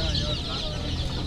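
Many small colored chicks peep in a dense, continuous chorus at a tianguis market stall in Tecomán, close and steady, with market bustle and voices underneath.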